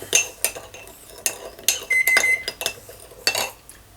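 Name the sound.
stirring sugar into lime sauce with a spoon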